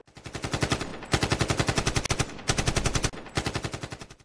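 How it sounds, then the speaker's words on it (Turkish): Rapid automatic gunfire rattles off in four close, loud bursts, each a fast string of sharp shots with brief pauses between them. "Tam da ana kapıya yaklaştıklarında araç yavaşladı ve silah peş peşe patladı."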